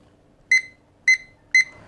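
Three short, loud electronic beeps from a prayer timer set for three minutes, evenly spaced about half a second apart in a quiet room, with no talking.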